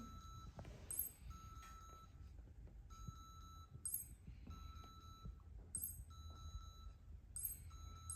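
Faint high electronic locator beeps from wireless earbuds sound in short repeating bursts about every two seconds over a low background hum.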